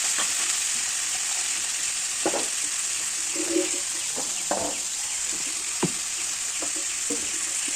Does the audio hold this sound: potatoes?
yes